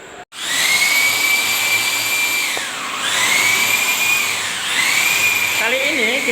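A power drill bores into a wall to mount a 1.5 PK air-conditioner indoor unit, a loud, steady high whine that dips twice as the bit slows and rises again, close and continuous.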